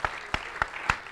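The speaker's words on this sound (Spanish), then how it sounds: "Un fortísimo aplauso." At a line-following robot competition event, a short run of five sharp handclaps lands in an even, steady rhythm, fairly close and distinct rather than a blended crowd ovation.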